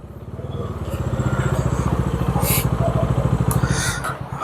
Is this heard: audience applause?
no